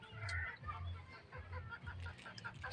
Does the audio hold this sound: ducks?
yes